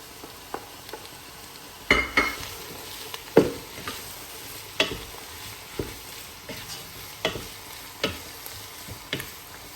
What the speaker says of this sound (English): We're just going to add the onions, now frying.